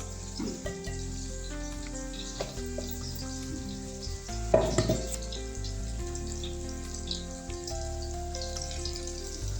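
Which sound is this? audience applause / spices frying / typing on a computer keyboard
spices frying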